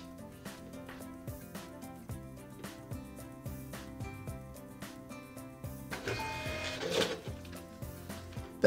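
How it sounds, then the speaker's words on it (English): A small Epson receipt printer chatters through a steady run of rapid mechanical ticks and pulses while printing a network configuration sheet, with a brief whirring burst near the end, quiet and close. "power the printer on with this button right here, and it will spit out a piece of paper."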